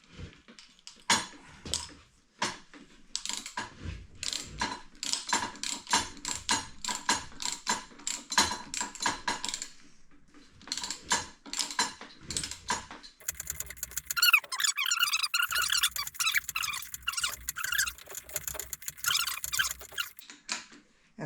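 A socket wrench ratchets in long clicking runs, stopping and restarting, while a 6-point socket backs out the fork cap on a 1969 Suzuki TS250 motorcycle, with a metallic squeaky stretch near the end and no talking.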